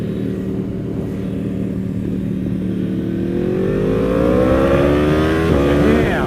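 Yamaha R1M sport bike engine revving hard through its exhaust, the pitch sweeping steadily upward as the revs climb, loud and close, with the roar building toward the end.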